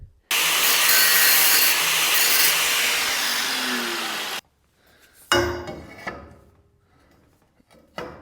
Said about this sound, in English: I'll just have to draw that out and do it with the angle grinder.